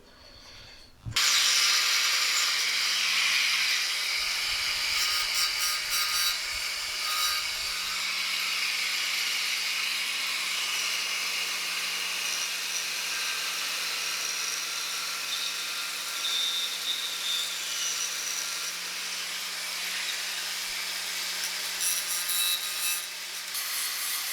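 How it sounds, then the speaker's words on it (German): A BMW M50 intake manifold section is milled out with a power tool, giving a steady high-pitched grinding whine that starts abruptly and runs loud and continuous for over twenty seconds, with slight fluctuations in pitch. "hier den Bereich müssen wir jetzt ausfräsen"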